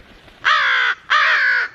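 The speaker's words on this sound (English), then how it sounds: "That's Maple in the back making that noise" A caged pet bird gives two loud, harsh, drawn-out calls close by, each about half a second long with a short gap between them and no talk.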